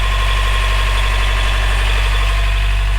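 A sailboat's inboard engine runs while charging its battery, giving a loud, close, steady idling rumble with an even throbbing vibration and no break.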